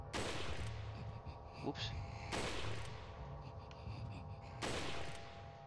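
Three widely spaced gunshot bursts from Resident Evil 4 ring out loud and close, each trailing off, with a voice talking briefly between them.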